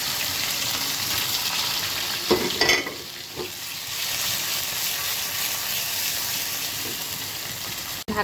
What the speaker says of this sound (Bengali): তারপর একটু ভাজার মাধ্যমে এটাকে আমি সেদ্ধ করে নেবো